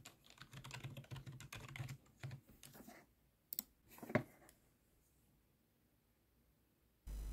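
Someone types their details on a Steam Deck, a quick run of soft, close keyboard clicks that bunch up, then slows to a few isolated taps before a long quiet pause.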